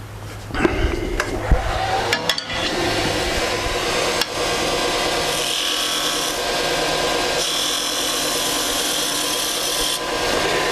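A spindle gouge cuts a cove in a spinning wood piece on a lathe, giving a steady rough scraping hiss throughout, with a few sharp knocks near the start, close by.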